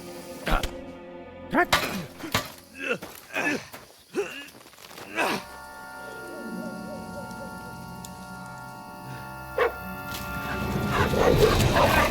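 A dog in the medieval role-playing game Kingdom Come Deliverance II barks and snarls while attacking, giving several sharp barks amid combat sounds, footsteps and a swelling music score, with someone talking over it.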